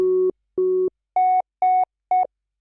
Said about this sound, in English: Now the sine flower, how did that sound again?